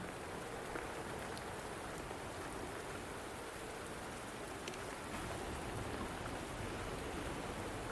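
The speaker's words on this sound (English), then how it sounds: "Are you trapped here by the rain?" Steady rain pours down in the video game Wuthering Waves, a dense, even hiss of drops on surfaces that holds without a break from start to finish, with no voices.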